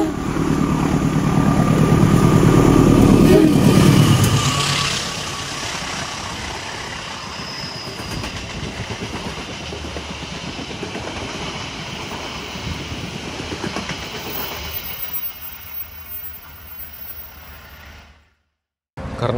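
Two trains crossing on a single-track railway line in Indonesia: a loud, heavy rumble builds for the first few seconds, then eases into a steady rolling drone that cuts off abruptly near the end.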